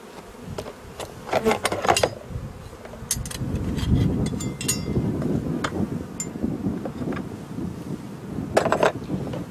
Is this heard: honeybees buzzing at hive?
yes